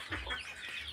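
Chicken clucking close by in a farmyard, a short burst of continuous low clucks lasting about a second with no talk over it.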